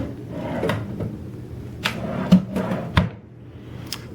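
A wooden drawer in a hotel room slides open and shut nearby, giving a few rubbing scrapes and sharp knocks spaced over a few seconds against quiet room tone.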